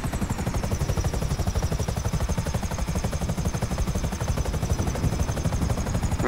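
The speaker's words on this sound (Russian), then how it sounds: "Я подозреваю, что это одноместные вертолетики" Single-seat helicopters in Grand Theft Auto V make a steady, fast rotor chop with a constant engine whine. The sound is loud and continuous, with no talking.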